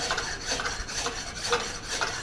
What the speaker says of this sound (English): I'll hit it with my rasp and burn the handle and let it soak in linseed oil